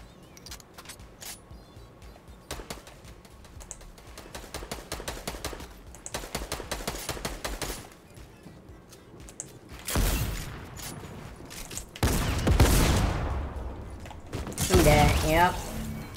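Fortnite gunfire bursts out in rapid runs of shots, with quieter clicking and mechanical handling first and then louder blasts and impacts clustered toward the end, heard alongside game effects.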